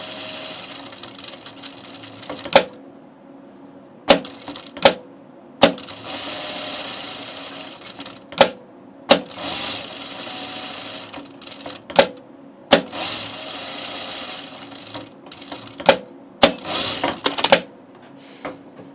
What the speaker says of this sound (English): just going to sew the perimeter.